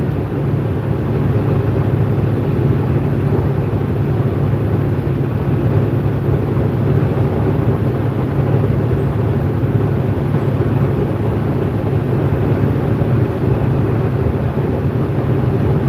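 A four-cylinder engine drones steadily for the whole stretch, a loud constant low rumble with wind-like noise and no breaks or changes in pace.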